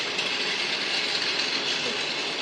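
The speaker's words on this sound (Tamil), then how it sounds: "ஐயோ ட்ரெயின் தப்பிச்சு ஓடுது." A toy train received as a birthday gift runs with a continuous, fairly loud whirring hiss, steady and unbroken, with no voices heard.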